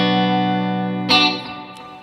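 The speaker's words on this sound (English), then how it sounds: "just having a little bit of delay kind of thickens the overall sound" An electric guitar chord rings through a delay pedal into a reverb, sustaining thick and full. Another strummed hit then starts an echoing tail that fades over the last second. No one talks.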